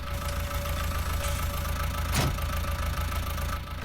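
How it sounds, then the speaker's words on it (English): A Fiat tractor engine idles in a farming video game, a steady low, even rumble with a constant drone, close and moderately loud, with no talking. "My Fiat tractor is just over here."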